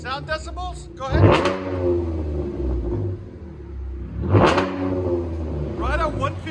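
Two loud throttle blips from a Chevy Camaro RS 3.6L V6 running a true-dual Dynomax Race Bullet exhaust rise over a steady rumbling idle, with people talking faintly in the cabin.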